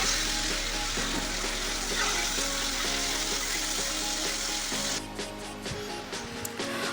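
Boiled, drained taro frying in a pan with oil and a radhuni seed tempering, a steady close sizzle and crackle throughout, easing and thinning toward the end.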